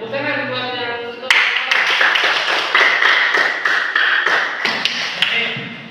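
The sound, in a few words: classroom applause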